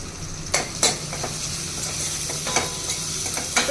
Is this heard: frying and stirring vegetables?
yes